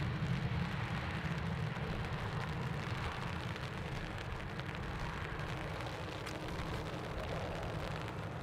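Steady rain at Dublin Airport, a dense continuous hiss of drops on surfaces with a low rumbling background, even and unbroken with no talking.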